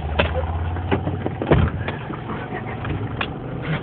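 A 1989 Toyota wagon engine with a thrown rod idles with a steady low rumble, punctuated by sharp repeated knocks and clacks at an irregular pace, loud and close.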